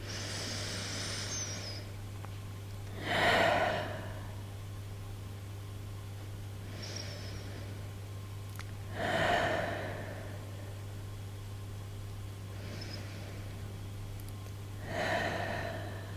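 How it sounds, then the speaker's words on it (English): Slow, deep breaths during a yoga flow, three soft breathy swells spaced about six seconds apart over a steady low hum, each inhale or exhale faint and close. "take 3 more rounds of breath"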